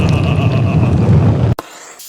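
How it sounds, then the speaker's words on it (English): A blowtorch roars steadily at close range while it crisps the skin of a whole suckling pig, a dense continuous hiss that cuts off abruptly near the end and leaves a faint quiet tail. "I got a blowtorch. Let's see if we can torch this."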